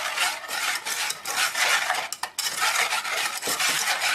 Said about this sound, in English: I'm actually going to grab a whisk so I can get some of the chunks of flour out of it